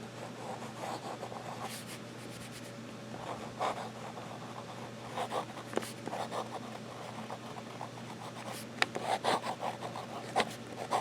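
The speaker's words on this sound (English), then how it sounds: "Little fast writing again here." A Sailor 1911 King of Pens fountain pen writing quickly on paper, its nib giving a steady, close scratchy rasp with short bursts of strokes over a constant low hum.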